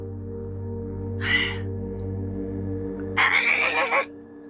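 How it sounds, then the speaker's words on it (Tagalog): A bird sound effect in a Filipino horror audio story: two harsh, raspy caw-like cries, one short and one longer, rise over a steady low ambient drone. "Isang ibon lang pala."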